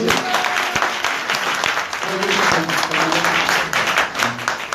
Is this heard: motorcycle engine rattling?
no